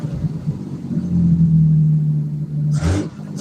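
A 1950 Plymouth with a three-speed column shifter idles with a steady low rumble that holds through most of the moment, then briefly rises near the end as the throttle is blipped.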